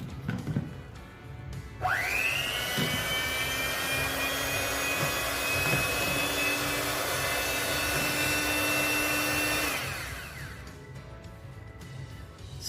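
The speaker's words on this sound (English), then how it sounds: "I've successfully whisked it to an extent" An electric whisk mixes glutathione whitening face wash ingredients in a bowl, its motor spinning up into a loud, steady, high whine that holds for about eight seconds and then cuts off.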